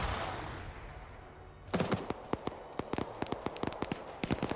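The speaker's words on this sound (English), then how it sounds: "that BTR-80 is basically firing at BLUFOR forces trying to come in close" A BTR-80 armoured vehicle fires in the video game Arma 3, a rapid series of sharp, irregular gunshot bursts that begins after a rushing hiss and continues in clustered volleys at moderate distance.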